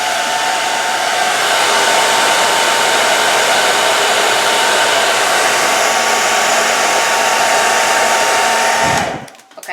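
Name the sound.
blow dryer heating a nail wrap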